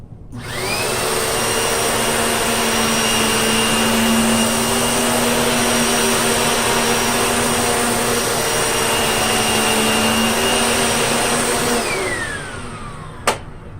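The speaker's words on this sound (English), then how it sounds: "My wife likes using this vacuum a lot because it is very easy to push." A Panasonic MC-UG589 upright vacuum cleaner motor hums steadily and loudly for several seconds while cleaning carpet, then winds down with a falling whine and a brief click at the end.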